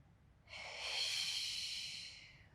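A slow, steady inhalation through the nose during a Pilates neck stretch, a soft airy breath rising and fading over about two seconds, close and quiet with no talk.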